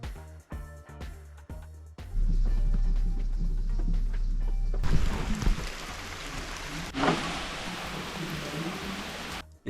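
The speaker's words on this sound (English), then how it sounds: "It's basically just been raining all morning." Rain falls steadily outside a campervan in Portugal, a dense hiss and patter that begins abruptly and holds loud and constant, with a brighter surge of drumming near the end.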